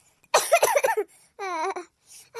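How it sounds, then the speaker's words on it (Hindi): A cartoon character coughs hard in a short burst of several rough, harsh coughs, followed by a strained, wavering vocal sound and a brief further noise. "अरे मारी माई बड़ी जोर खांसी आवत बाटे।"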